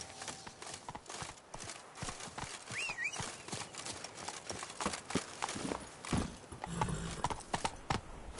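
Roach, a horse in The Witcher 3, trots with steady, rapid clip-clop hoofbeats on the ground, close and continuous, with faint game ambience underneath.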